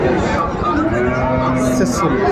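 Friesian and crossbred cattle moo at a busy cattle market in Dinajpur, several drawn-out calls overlapping close by amid crowd noise and people talking.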